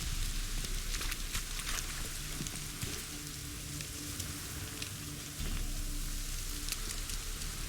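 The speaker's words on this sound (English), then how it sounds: "This downpour's a bastard, it is." Heavy rain pours down in The Witcher 3 game world, a dense steady hiss of drops drumming on surfaces throughout, with no voices.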